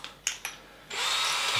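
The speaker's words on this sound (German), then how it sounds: "ich bohre da jetzt schon mal ein bisschen vor" A power drill with an 8 mm bit pre-drills holes while restoring a bench: two short motor blips, then the drill runs at full speed continuously, loud and close, with no voices.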